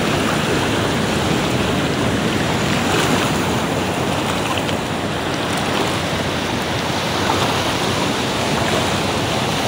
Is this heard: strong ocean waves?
yes